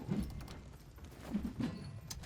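Horse hooves galloping in the video game Conqueror's Blade, a few soft, muffled clip-clop beats in quick clusters, faint and somewhat distant under a low mixed game background, without speech.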